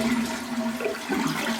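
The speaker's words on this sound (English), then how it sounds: "Flush the toilet to empty the tank." A household toilet flushes to empty its tank after the main water supply is shut off: a loud, steady rush of draining water, close by and without talk.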